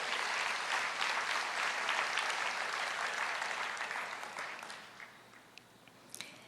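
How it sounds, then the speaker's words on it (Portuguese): Sustained applause from a church congregation during a sermon, a dense even clatter of many hands that gradually thins and fades toward the end, with a few louder isolated claps near the close. "Vamos aplaudir ao Senhor"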